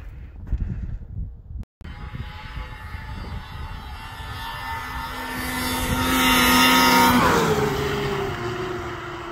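A Ski-Doo MXZ 800 and a Yamaha SXR 700 snowmobile race side by side, their engines droning and building to a loud, high-revving whine as they pass close by, then fading slightly.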